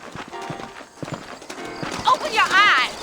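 Horse hooves clip-clop in Red Dead Redemption, the steady clopping running close under a man's speech and grouped more densely toward the end.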